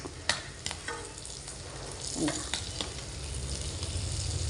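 Fish fries in a pan with tamarind, a steady close sizzle with a few sharp scrapes and knocks as the pieces are flipped.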